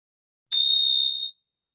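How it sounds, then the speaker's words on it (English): A single bright chime struck once in a quiet setting, its clear ring sustaining briefly and then fading away into silence. "listen to the sound of the chime, and listen until the sound dissolves"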